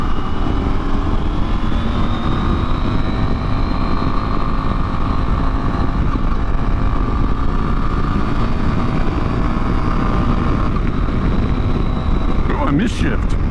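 A KTM 890 SMT motorcycle engine drones loud and steady at speed for over ten seconds, close and continuous, then briefly breaks near the end as a gearshift is missed.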